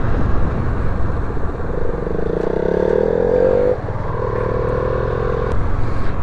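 A Yamaha motorcycle labours along a rough off-road hill trail, its engine droning steadily with a rising note midway and clattering and scraping from the rugged ground.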